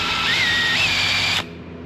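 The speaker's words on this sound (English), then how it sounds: "eraser wheel on the drill, and that'll make quick work of" A drill spinning an eraser wheel strips old adhesive glue off a Chevrolet Tahoe's body, a steady high whine with a slight pitch shift that holds continuously, then cuts off abruptly near the end.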